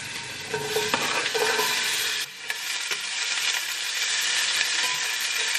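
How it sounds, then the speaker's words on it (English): Garlic and onions hit a hot pan, giving a steady bright sizzle and crackle that runs throughout, briefly dipping about midway, with a few light stirring clinks. "I'm gonna add my garlic and onions."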